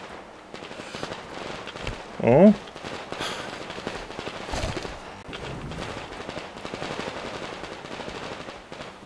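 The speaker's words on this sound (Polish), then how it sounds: "Gdzieś to strzelają, patrzcie." Gunfire from the video game Metro Exodus Enhanced Edition: a brief burst of shots around two seconds in, under game ambience, with a man's short exclamation at the same moment.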